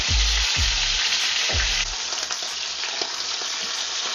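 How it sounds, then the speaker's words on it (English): Mackerel frying in a pan over low heat, Filipino-style, giving a steady close broadband sizzle with crackling pops throughout and a few low thumps near the start, with no talking. "we fry the fish for 10 minutes on each side on a low heat"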